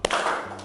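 One hand clap in a classroom game: a single sharp slap at the start, followed by a short roomy decay with faint background noise.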